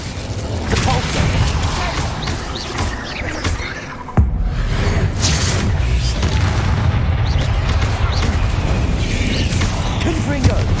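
Spell blasts from Confringo, Bombarda and Incendio in Hogwarts Legacy, booming and crackling one after another in a dense, continuous barrage of explosive impacts, with the character's voice calling out spells over the din.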